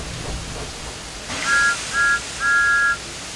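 Three shrill steam engine whistle blasts sound after a burst of hiss, two short toots then a longer one, over steady background noise, in the video game Thomas Wonders of Sodor.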